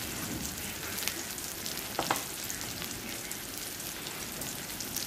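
Spices and tomato frying in a pan for stinging catfish curry, a steady close sizzle with faint stirring scrapes and a couple of brief clinks.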